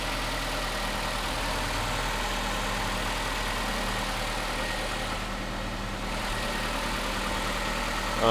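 A 2012 Nissan Altima 2.5 S coupe's 2.5-liter four-cylinder engine idles steadily and smoothly with an even low hum, heard close with the hood up.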